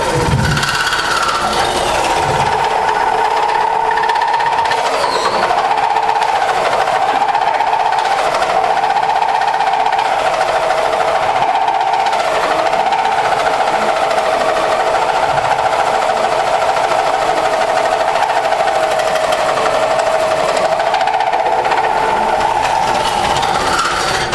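A wood lathe cores out a bowl, running as a loud, steady whine with a wavering tone as the cutter is pulsed in and out to hold speed, continuous and close throughout with no talking.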